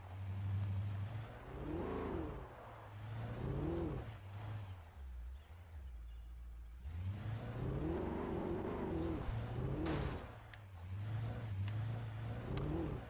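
A beat-up car's engine in the Alan Wake video game, revving and surging through the whole stretch, with a bright crunching burst partway through, no talk.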